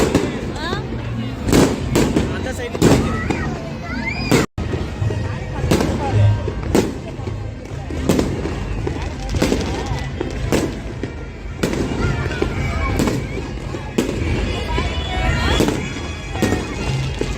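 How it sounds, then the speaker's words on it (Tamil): Independence Day fireworks in the United States pop and bang repeatedly at irregular intervals, some close and sharp, with voices talking underneath throughout. "பட்டாசும் வெடிக்க ஆரம்பிச்சிச்சு"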